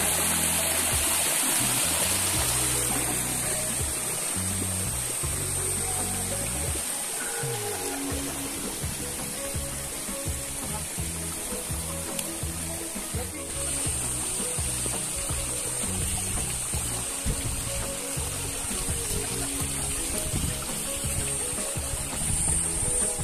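The Nandinia waterfall at Hindol in Dhenkanal pours in a steady, broad rushing roar that stays constant and fairly close throughout, with no voices over it.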